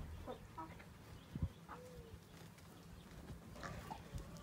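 A broody hen gives faint, sparse clucks and soft low calls near a yard, with a short sharp knock partway through; no voices.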